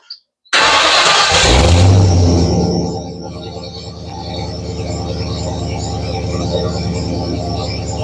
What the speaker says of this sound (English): let's just pretend like this is a cold start